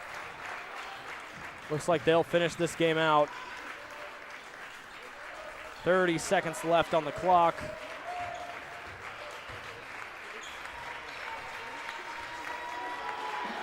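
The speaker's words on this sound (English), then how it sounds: "Crowd applauding here." Crowd applause rolls through a varsity high school basketball game between the Lakota East Thunderhawks and Mason Comets in its final seconds, a steady background roar beneath a commentator's voice.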